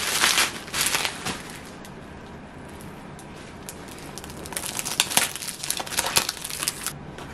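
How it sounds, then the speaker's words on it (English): Paper wrapping crinkles and tears as it is pulled off a gift bag from Saks. Close, crisp rustling comes in a burst at the start, then a denser flurry of crackling and crumpling in the second half. "It did come fully wrapped, but I'm gonna unwrap it."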